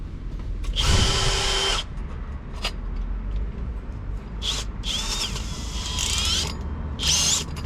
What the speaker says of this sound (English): drill a hole in the floor, see where it goes